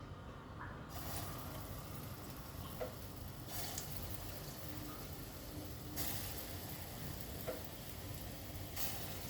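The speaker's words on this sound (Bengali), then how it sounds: "বড়াগুলো ভেজে নিচ্ছি।" Lentil fritters (bora) fry in mustard oil with a steady close sizzle and crackle, occasional louder bursts of spitting and faint clinks as they are turned, with no talk.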